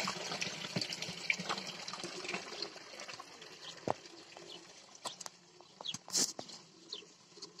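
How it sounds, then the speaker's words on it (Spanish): Water drains steadily from a rescued turtles' pond, a faint continuous trickle and splash close by, with occasional small knocks and a brief sharper splash near the end. "ahora va a estar vaciando agua hasta que lleguen al mismo nivel"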